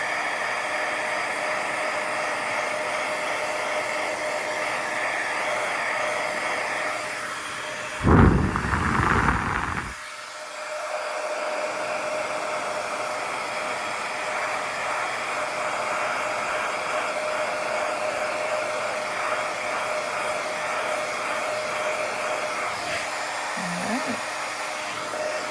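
Heat tool blowing a steady, close airy whoosh while melting embossing powder on cardstock, running continuously with a brief louder burst partway through, then settling back to an even roar.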